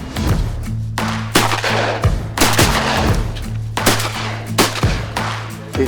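Repeated shotgun blasts fired at ducks on a guided waterfowl hunt, several loud sharp reports spaced across a few seconds, with no talk.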